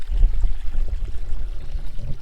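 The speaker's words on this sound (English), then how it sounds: "We always have running water here." Running water from a stream flowing over shallow bedrock in a desert gold-prospecting spot, a steady low rushing and trickling wash that continues evenly throughout with no voices.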